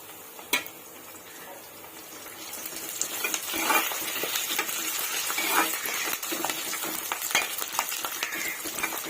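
Onions fry in hot oil as curry leaves and green chilies go into the pan, a steady sizzle overlaid with scraping and stirring from a utensil and a few sharp clinks against the pan.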